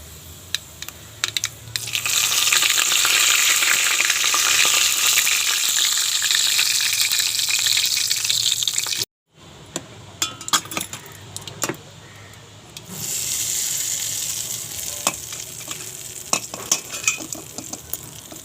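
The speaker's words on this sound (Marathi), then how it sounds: "फोडणी घालून घेतली चटणीवर." Hot tempering poured over a freshly ground green pea chutney of coriander, garlic, green chilli and ginger gives a loud, steady sizzle for several seconds. After a brief gap the sizzle returns more softly, with light clinks and scraping of a utensil.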